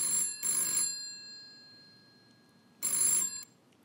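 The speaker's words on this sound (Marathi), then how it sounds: "घरी आलो तर फोन वाजत होता." An old-style telephone bell rings indoors in a quiet room, two quick bursts, then a pause and a third burst. Each burst is bright and metallic, with a thin ringing tail in the silence between.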